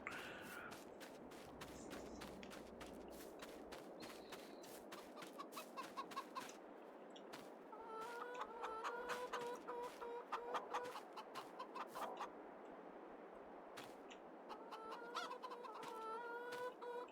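Chickens at a chicken coop in the Farming Simulator 22 video game cluck and squawk repeatedly over a steady farmyard background, with sharp clucks and occasional louder calls recurring throughout.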